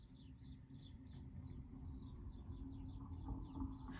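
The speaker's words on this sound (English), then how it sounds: "You can hear the birds chirping and all that." Small birds chirp outside on a sunny day, a faint, evenly repeated series of short calls over a low, steady background rumble.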